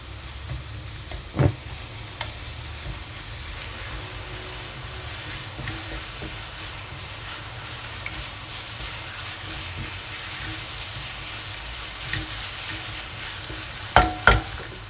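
Paneer and a spoonful of tomato ketchup stirred together in a frying pan, a soft steady sizzle throughout with a few sharp spoon scrapes and taps near the start and end.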